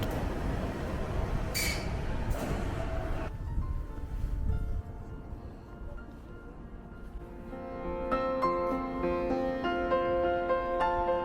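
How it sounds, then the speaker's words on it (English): A train rumbles past with a steady low roar, then fades into a tunnel, and a tonal screech of wheels or brakes rises near the end. "watching the trains passing by and disappear in the tunnel"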